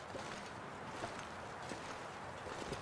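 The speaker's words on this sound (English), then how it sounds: "whenever there's wind, it's almost always in your face. Occurring right now." Wind blows steadily through a snowy outdoor scene in the survival video game The Long Dark, a constant moderate broadband rush with slight gusting swells and no speech.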